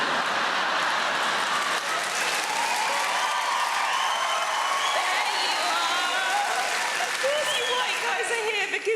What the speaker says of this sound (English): Come on, guys, cheer louder.